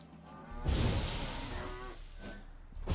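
Cows in The Witcher video game let out a loud, drawn-out moo near the listener, followed by a second call starting at the end, with faint game ambience underneath.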